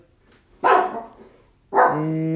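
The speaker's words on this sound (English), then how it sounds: "if you hear a dog barking, it's my dog" A dog barks twice nearby, two loud separate woofs about a second apart, with a faint murmur from a person in between.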